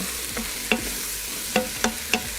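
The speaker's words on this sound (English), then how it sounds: "we're just gonna add the mushrooms and onions just right back in. And then just mix together for a little bit." Sliced steak with mushrooms and onions gets stirred in an Instant Pot for a keto Philly cheese steak filling, giving a soft steady sizzle broken by four or five distinct scraping, knocking strokes of a utensil against the pot.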